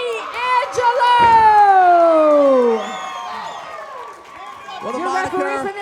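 Crowd cheering and whooping at a Valor Fights mixed martial arts event as a fighter from Knoxville, Tennessee is introduced, loud and sustained, mixed with an announcer's amplified voice over the arena noise.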